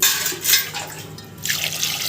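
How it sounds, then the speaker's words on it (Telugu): Water sloshes and trickles close by as muddy taro roots are rinsed, a brief wet swirl rising and easing again. "ఈ చామగడ్డల్లో ఎక్కువ మట్టి ఉంటుంది కాబట్టి ఒక రెండు సార్లు శుభ్రంగా కడిగి"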